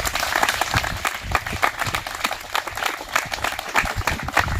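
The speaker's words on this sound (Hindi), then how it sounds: "इसका जोरदार ताली पर मारो" A group of trainees in a home guard physical-test coaching class claps in unison for a student, a dense, close burst of rhythmic applause lasting throughout.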